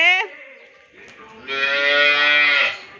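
Cattle on a village farm in Tamil Nadu, with a calf and its mother among the herd, give a short moo followed by a long, loud, drawn-out bellow close to the microphone.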